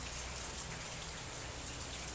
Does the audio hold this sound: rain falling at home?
yes